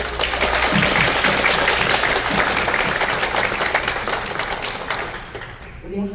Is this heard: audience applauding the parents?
yes